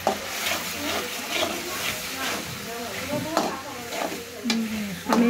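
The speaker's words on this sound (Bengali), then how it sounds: "আমি একটু নেড়ে ছেড়ে দিচ্ছি" Spices stirred in a frying pan with a soft scraping and sizzling hiss under steady kitchen background, with a voice talking over the cooking.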